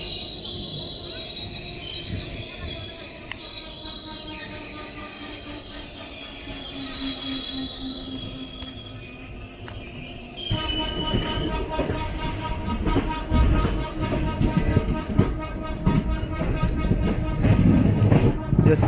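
The 16307 Alappuzha–Kannur Executive Express rolls into Ernakulam North station with a steady rumble and high wheel squeal, then a louder, denser clatter of wheels over track joints in the second half.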